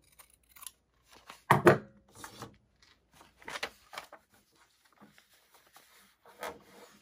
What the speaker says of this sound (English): And I'm gonna go ahead and trim the excess.